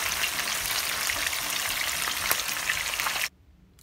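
Salmon steaks sizzle loudly and steadily in a pan while being browned for teriyaki salmon, a dense continuous frying hiss that cuts off abruptly near the end.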